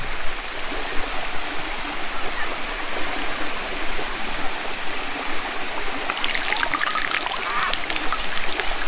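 A waterfall and stream in the Blue Mountains of Jamaica rush in a constant broadband wash of falling water, with a brief bird-like chirping near the end and no talking.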